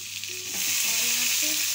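Onions added to a hot pan for an aloo soya badi curry fry with a steady broadband sizzle that swells as they hit the oil, with light stirring scrapes throughout.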